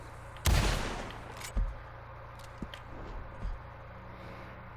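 Shots from an 1876 Evans Repeating Rifle in Red Dead Redemption 2: one loud, sharp report with a trailing echo, then several fainter shots and clicks spaced out over a few seconds.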